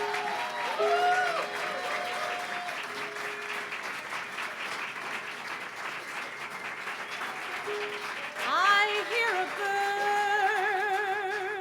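An audience applauds to welcome a singer onstage at the Green Room, with dense sustained clapping, a few cheers, and a piano-like tone and voices rising over the ovation toward the end.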